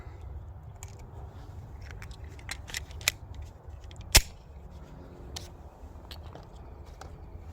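A round being loaded into a Glock 43 pistol gives a single sharp metallic click, with a few lighter handling clicks around it over a quiet background.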